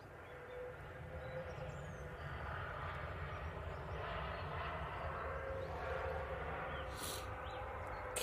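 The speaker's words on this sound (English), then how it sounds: "Kissing the tarmac with the rear right gear first, and then transferring that weight over to the left" Jet airliner touching down at Manchester Airport, right main gear meeting the tarmac first: a steady, fairly loud broadband engine roar throughout, with no talk over it.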